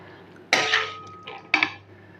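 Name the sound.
serving lau muri ghonto with utensils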